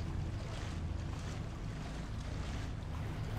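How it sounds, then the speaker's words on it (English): Wading through water in The Evil Within, a steady faint wash of sloshing, swishing water noise, continuous and even with no voices. "Went through the water."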